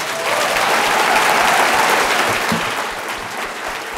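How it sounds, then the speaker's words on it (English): Loud, dense audience applause fills an awards and scholarship event hall after a speaker's remarks, a steady roar of many hands clapping together that eases slightly toward the end. "Round of applause."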